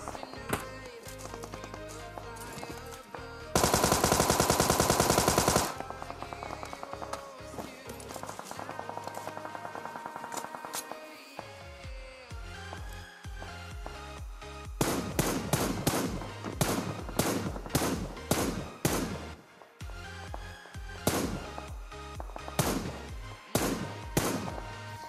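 Gunfire in PUBG Mobile as a bot is shot: a loud sustained burst early, then quiet game ambience, then a long run of rapid, sharp automatic shots near the end, with no talking.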